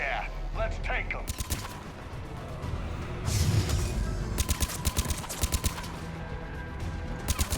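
Gunfire rattles through a firefight in the video game Mass Effect Legendary Edition, with repeated bursts of sharp automatic shots and a heavier boom under shouted voices.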